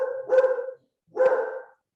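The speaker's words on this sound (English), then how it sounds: "He's actually barking" A dog gives two loud, close barks, each a drawn-out woof-like yowl, separated by a short silence, with nobody speaking over them.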